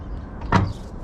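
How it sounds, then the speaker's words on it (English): Door of a wrecked, long-abandoned Mercury Cougar XR-7 with salt-water damage being opened, a single brief dull clunk near the middle of a quiet moment. "this door opens. Yeah, the door works pretty good"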